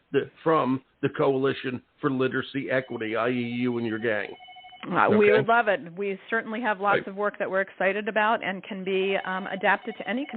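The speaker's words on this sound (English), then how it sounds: "I apologize for the phone ringing." A telephone ringer goes off briefly, mostly buried under continuous conversation during a radio talk-show interview.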